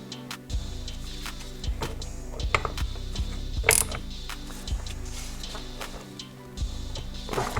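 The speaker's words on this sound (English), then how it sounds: "And then you just tighten the lock nut back over." Ratchet tightening a lock nut on a Subaru steering rack during a rack and bushing replacement, rapid close clicking in bursts with short pauses and a sharper clank midway.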